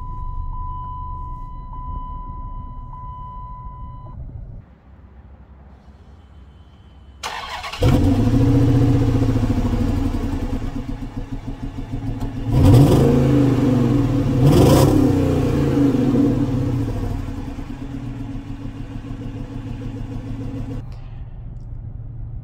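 A car engine with a slipped piston, check-engine light on, starts after a brief steady tone, then idles roughly and loudly with two strong revs midway before settling back to a rumbling idle.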